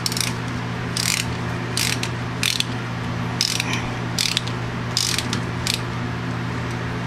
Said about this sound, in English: I'll just wrench it off a little looser